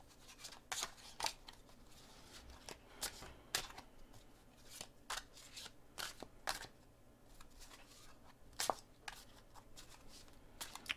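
Tarot cards are shuffled by hand in quiet, irregular bursts of crisp riffling and snapping, close up and soft, with short pauses between runs.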